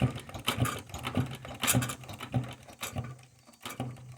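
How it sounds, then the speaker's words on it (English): A sewing machine thumps rhythmically through two layers of heavy leather, each stitch a low repeated knock, steady and close, with a brief pause near the end. "now we're sewing 2 layers of everything"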